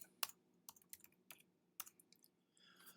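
Fingers tap out a short, irregular burst of keystrokes on a computer keyboard, crisp and close, in a quiet room.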